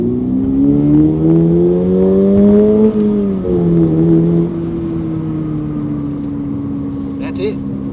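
A Subaru BRZ engine revs hard up a highway on-ramp, a steady droning note climbing in pitch, dipping at a shift and then holding a smoother cruise tone, loud and close from inside the car.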